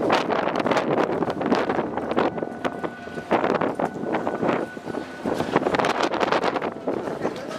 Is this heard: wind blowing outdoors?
yes